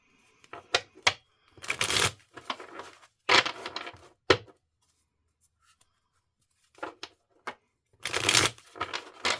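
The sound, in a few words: tarot cards being shuffled and handled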